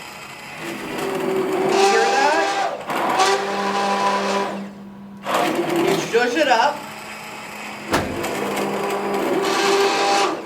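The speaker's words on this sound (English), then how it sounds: "I put my stick blender in the liquid." A stick blender whirs in hot soup in several bursts, its motor droning loud and close, with a person talking in the pauses between runs.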